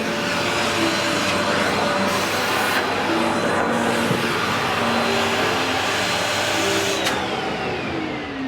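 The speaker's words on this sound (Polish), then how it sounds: "kocham ten odkurzaczek, on mi pomógł" A household vacuum cleaner runs continuously and loudly at close range, a steady whirring roar with faint tonal whine and no speech.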